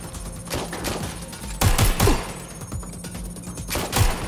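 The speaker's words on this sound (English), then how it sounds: "Shots fired!" Gunfire in Watch Dogs: Legion, a rapid run of sharp shots and bursts with heavier thumps midway, set against steady game ambience.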